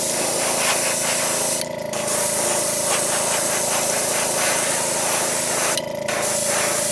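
Spray paint hisses loudly and close up as a white base coat goes onto jerkbait fishing lures. The long continuous bursts break off twice for short pauses.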